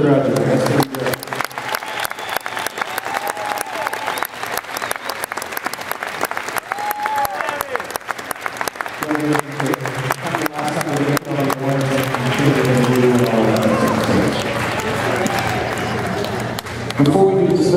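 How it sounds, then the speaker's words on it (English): Audience applause at a university winter concert, a long steady wash of clapping from a large crowd that swells louder toward the end, with some voices and cheers mixed in. "how about a round of applause for all the people that are graduating?"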